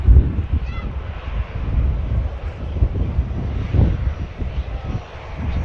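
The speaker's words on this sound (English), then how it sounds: "EasyJet taxiing past for Paris as well." EasyJet airliner taxiing at Manchester Airport, a moderate continuous jet engine whine and rumble with gusty wind buffeting the microphone.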